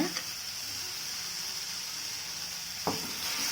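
Ginger garlic paste and tomato sauté in a pan with a steady close sizzle, and a brief stirring clatter near the end.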